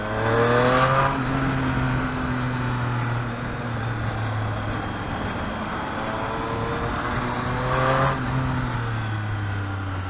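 A Triumph Street Triple 765 motorcycle engine accelerates hard for a power wheelie, its steady harmonic drone rising in pitch with a second surge of revs near the end, loud and close with no talk.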